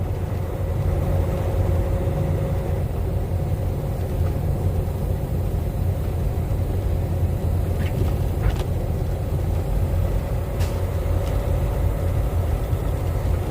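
Slow-moving road traffic in snow heard from inside a car, a steady low engine rumble and road hum with a few faint brief clicks, no talking.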